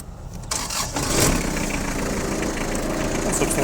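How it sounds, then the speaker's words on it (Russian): A Kubota GT3 tractor engine cranks over in freezing frost, catches about half a second in, and settles into a steady, loud, close idle with no voices. "Давайте сейчас запустим тракторец,"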